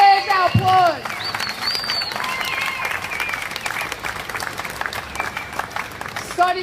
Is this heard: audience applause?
yes